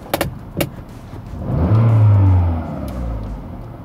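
A VW Polo engine, just after an electronic gas pedal adjustment, climbs in a short rev burst and then drops back down smoothly toward idle, preceded by a couple of sharp clicks and with no talking.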